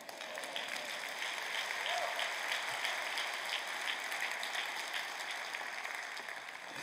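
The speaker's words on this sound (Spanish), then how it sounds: "Date un aplauso." A church congregation applauds in a steady, dense wash of clapping that holds evenly from start to finish, with no voice standing out above it.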